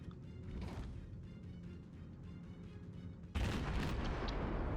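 203mm naval guns fire in World of Warships, distant muffled booms and mechanical clatter at first, then a sudden loud close salvo with a heavy rumbling blast that carries on to the end.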